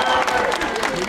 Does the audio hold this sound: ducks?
no